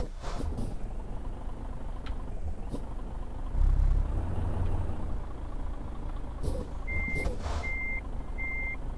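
A truck's reversing beeper sounds three times in a steady rhythm, near and clear, over low engine rumble and a brief hiss of air brakes while the truck parks in Euro Truck Simulator 2.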